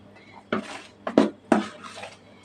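Cake batter goes into cup-style containers with three distinct clinks and scrapes of a spoon against bowl and mold, close and fairly loud, with quiet pauses between.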